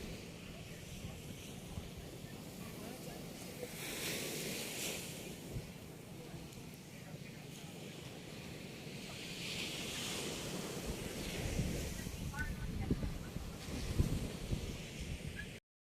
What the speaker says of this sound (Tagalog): Ay, maalon ngayon mo. Yung alon niya.